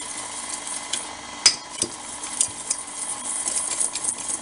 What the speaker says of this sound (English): And we're just gonna whisk this up.